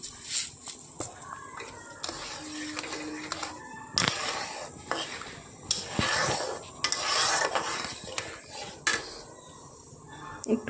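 Spoon scraping and clinking in a pan while halwa cooks with water and sugar, irregular close stirring scrapes and taps at moderate volume, with soft speech over it at times.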